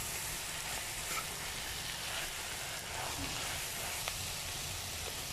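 Crushed shallots, garlic and ginger frying with onion in a pan for a Kerala fish pollichathu, a constant, fairly faint hissing sizzle with light stirring, close up and without talk.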